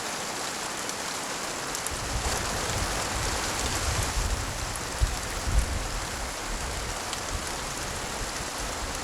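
Rain falls steadily and fairly loud, a dense hiss of drops on surfaces, growing heavier after the first couple of seconds, with no talking.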